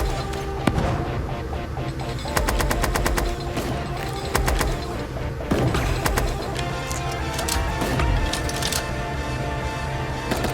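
Desert Eagle shots and grenades in the cartoon battle royale game Super Animal Royale, with repeated sharp gunshots and rapid bursts of fire rattling close by, some in quick clusters, over a busy game soundscape.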